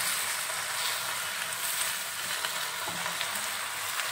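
Plum pickle with hard lumps of jaggery sizzles steadily in a wok while being stirred, a close, continuous frying hiss with faint scraping of the spoon and no talking.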